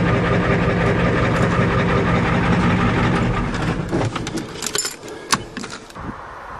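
Diesel truck engine running with a steady low rumble after a glow controller repair, then easing off as the engine quiets and scattered clicks and knocks follow near the end.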